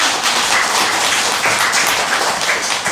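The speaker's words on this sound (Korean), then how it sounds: "윤대웅님 박수." A live health talk concert audience applauds Yoon Dae-woong, who recovered from thymic cancer, with dense, steady clapping that stays loud and even throughout.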